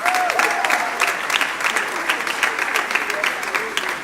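Applause from the audience at a school graduation and prize-giving ceremony, steady dense clapping for a prize winner that fills the hall for the full few seconds, with faint cheering beneath.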